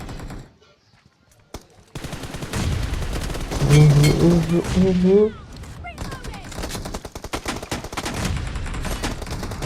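Bursts of rapid automatic gunfire ring out in a video game, loud and dense, with game effects layered over them. Excited voices shout throughout.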